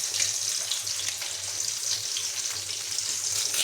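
Curry leaves sauté in hot oil for home-style sambar, giving a continuous bright, crackling sizzle close up and without pauses.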